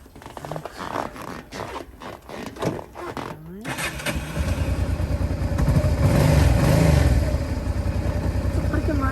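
A Honda Deauville NT650V motorcycle in neutral with the choke off: after a few seconds of clicks and handling noises, the engine catches and settles into a steady, close, moderately loud idle rumble.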